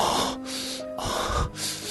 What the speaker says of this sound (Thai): เสียงหอบหายใจของผมถี่กระชั้นไปตามจังหวะการขยับเสียดสี